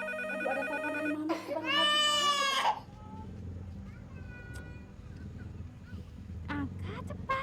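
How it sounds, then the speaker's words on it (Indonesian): A telephone in a home rings with a loud burst of warbling electronic tones, followed by quieter scattered sounds and faint tonal fragments. "Aduh, ada telepon dari mama."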